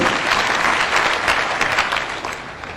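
A stadium crowd at an interdenominational church service in Nanyuki claps together in a broad, sustained wash of applause that fades slightly at the end.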